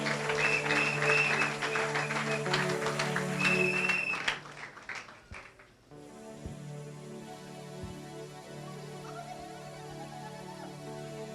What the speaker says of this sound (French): Betela mokonzi na bakonzi maboko.